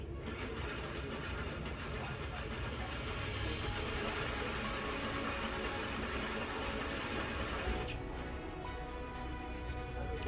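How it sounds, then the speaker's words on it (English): A Juki DDL 8700 industrial sewing machine runs straight stitches with a steady whirring hum and rapid, regular ticking, then stops abruptly near the end, leaving a quieter mechanical tail. "So finally, I got it to sew with some nice straight stitches."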